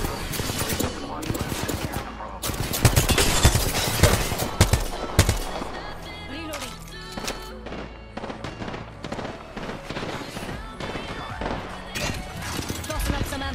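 Gunfire in the video game Apex Legends, dense bursts of rapid automatic shots with sharp cracks and explosions, loud and continuous, mixed with game sound effects and voice lines.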